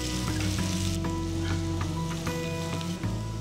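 Spicy fish fry sizzling on a hot tawa with slit green chilies and curry leaves, a loud, steady close-up crackle with faint scraping and clicks throughout.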